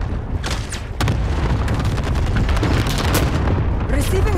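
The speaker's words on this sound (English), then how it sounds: "Enemy cluster strike incoming." Cluster strike explosions in the Warzone game on Rebirth Island, a dense barrage of booming blasts rolling one after another, loud and close, with a sharp burst near the start.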